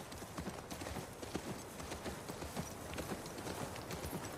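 Horse hooves clip-clopping in The Last of Us Part II, a brisk run of uneven hoofbeats on hard ground, moderately quiet and heard alone without speech.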